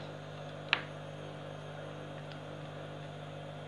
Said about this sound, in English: Sorry about the noise, the washing machine's going